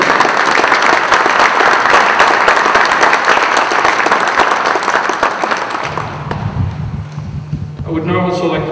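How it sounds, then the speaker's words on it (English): Sustained audience applause at a community gathering honoring committee members, dense steady clapping filling most of the clip, then easing as a voice begins speaking over a low hum near the end. "Ladies and gentlemen, please give them a round of applause."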